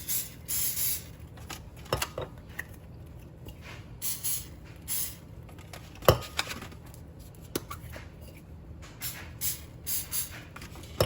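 Several short hissing bursts of aerosol cooking spray inside Easter eggs, close up, separated by pauses with faint clicks and a sharper knock.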